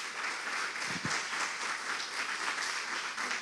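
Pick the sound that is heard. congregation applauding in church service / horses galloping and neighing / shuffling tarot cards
congregation applauding in church service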